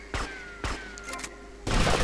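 Gunshots from the video game GTA Vice City ring out in three sharp separate bangs, then a denser burst of rapid fire at the end, all loud and close with no one talking.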